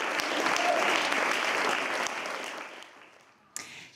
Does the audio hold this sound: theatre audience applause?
yes